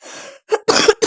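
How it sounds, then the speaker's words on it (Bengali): A person with a bad cough coughing several times in quick succession, a short hoarse burst followed by three harsh, close coughs, loud and alone without talk. "কাশিও হয়েছে খুব।"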